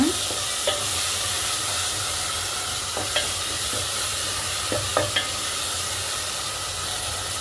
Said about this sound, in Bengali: এরপর চিংড়ি মাছগুলোও দিয়ে দেবো।